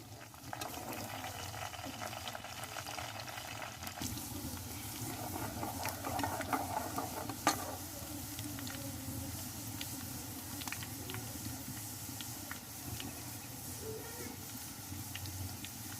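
Onion browning in ghee for a moringa flower chicken dish, a steady low sizzle and bubbling hiss filling the whole stretch with faint stirring scrapes and an occasional clink, no voices.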